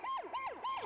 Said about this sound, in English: Pat tends to wail his siren during his sleep